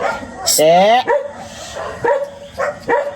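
Several sharp dog barks and yelps in quick succession, loud and close, with one drawn-out whining yelp near the start.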